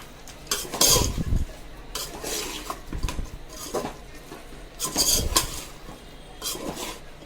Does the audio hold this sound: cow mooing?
no